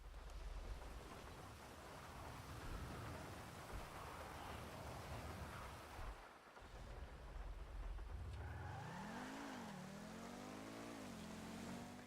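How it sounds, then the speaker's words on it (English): Pegassi Osiris supercar in GTA 5 on PC accelerating: a broad hissing roar, then the engine note climbs steeply, drops at a gear change and rises again near the end. "I'm just going to let you guys listen to the transmission and acceleration real quick."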